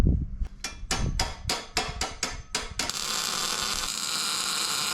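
Welding on a trailer boom: a run of sharp metallic strikes gives way to a steady, close buzzing crackle that holds to the end.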